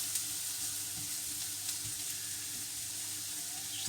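Onions frying in a pan as they begin to caramelise, a continuous faint hiss of sizzling with a few soft clinks, quiet and steady with no voices.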